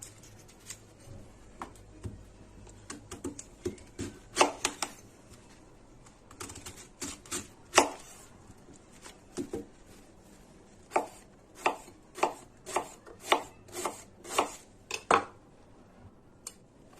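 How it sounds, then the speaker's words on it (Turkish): A knife chops red cabbage on a cutting board, with irregular bursts of thuds that settle into a steady rhythm of sharp strikes near the end. "Hepsinin tek tek şimdi doğrama işlemine başlayalım"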